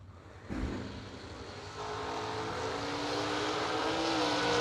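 At a drag strip, a Vega GT and an S10 pickup launch with a sudden burst of engine noise, then a steady, rising roar as the cars pull away.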